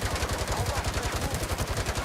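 In a gangster city video game, automatic gunfire strikes an enemy's shield in a rapid, even burst of closely spaced impacts. The shots keep up a steady machine-gun rhythm of roughly a dozen per second, with no voices over them.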